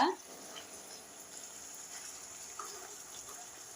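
Chicken pieces for pickle frying in hot oil, a steady broadband sizzle and hiss that holds evenly throughout at a moderate level, with no talk over it.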